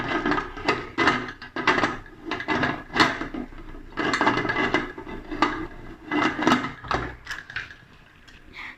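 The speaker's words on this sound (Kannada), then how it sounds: "ನೋಡಿ ಇವಾಗ ಕುಕ್ಕರ್ ಬಾಯಿನ ಹಾಕ್ತಾ ಇದ್ದೀನಿ" Metal pressure cooker lid set onto the cooker over boiling rice and lentils for bisibele bath, a run of close clanks, scrapes and knocks repeating through the whole stretch, no voices.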